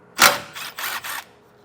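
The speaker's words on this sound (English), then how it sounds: "There's this one 10mm head bolt. Go ahead and pull that out." A ratchet loosens a 10mm-head bolt on a bracket of a 2024 Chevrolet Silverado, giving three short, close bursts of rapid clicking.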